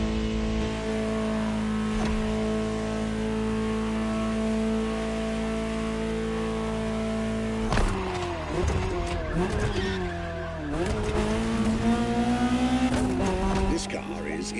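A Ferrari 288 GTO engine in The Crew Motorfest drones at a steady, sustained pitch, then revs and shifts with rising and falling sweeps, tire squeal and skidding after the midpoint, under music-like tones.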